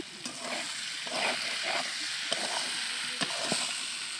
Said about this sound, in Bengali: এবার ভাজা সয়াবিন বড়িগুলো আর আলুগুলো একসাথে আমি এটার ভিতরে দিয়ে আবার নাড়াচাড়া করব।